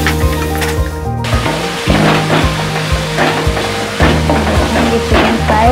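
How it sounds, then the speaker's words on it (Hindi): Chicken fries on high heat in a pan for nasi goreng, a loud, close sizzle broken by repeated spatula scrapes and stirring strokes, with music underneath and no talk. "चिकन को 1-2 मिनट तक भूनना है तेज़ आंच पे।"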